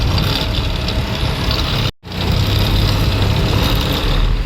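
Vehicle engines rumble and idle in a queue at a highway tollgate, a loud continuous low drone of cars and trucks up close, broken by a brief cut of silence midway.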